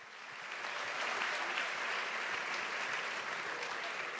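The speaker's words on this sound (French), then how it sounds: "On les applaudit aussi" Dense applause from an audience at a live event after a dance group's performance, rising quickly then holding as a steady, fairly distant wash of many hands.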